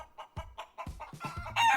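A chicken sound effect: several short, evenly spaced clucks, then a louder rooster crow bursting in at the end, close and distinct with no talk.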